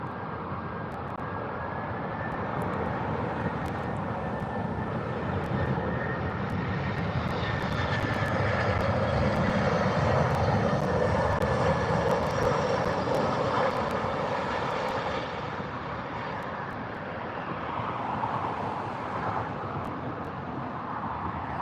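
An Airbus A319 arriving from Belfast lands at Gatwick Airport, its jet engines producing a steady broadband roar that swells gradually and stays loud and close for about twenty seconds before easing slightly, with no voices over it.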